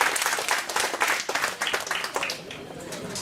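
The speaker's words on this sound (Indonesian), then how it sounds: "Mari tepuk tangan untuk Bank Papua." An audience applauds Bank Papua during a regency head's working visit in Windesi district: steady, dense clapping from a crowd that holds strong throughout and eases slightly near the end.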